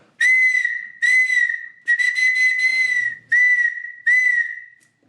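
A shrill handmade clay whistle blown in five steady blasts, each held about a second with brief gaps, loud and close with no talking.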